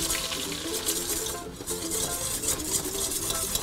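A whisk works flour into a stroganoff sauce in a pan, giving continuous quiet stirring and scraping with a faint wet sizzle throughout.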